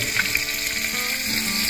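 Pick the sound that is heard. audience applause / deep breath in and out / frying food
frying food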